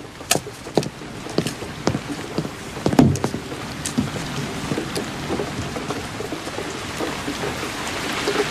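Steady rain patters on a surface in a horror film scene, with sharp drip impacts and a low thunder rumble near the middle, and no voices.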